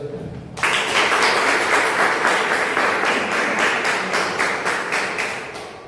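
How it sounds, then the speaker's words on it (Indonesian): A classroom audience breaks into applause after a short quiet start, with dense, sustained clapping close by that gradually tapers off. "kita kasih aplaus"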